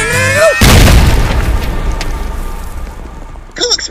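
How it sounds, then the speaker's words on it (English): A loud cartoon explosion bursts in with a heavy boom and a long rumbling decay, set within an animated battle and flanked by brief voice bits before and after. "Cool explosion!"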